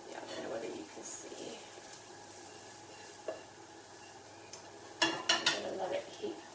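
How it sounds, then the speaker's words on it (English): Garlic being stirred in a pot for Lebanese lentil soup (shorbat adas), a soft steady sizzle with occasional utensil scrapes and a brief louder clatter near the end, under light speech. "Keep stirring. Try not to let the garlic from catching on the bottom."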